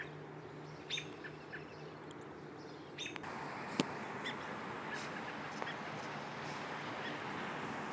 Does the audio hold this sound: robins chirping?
yes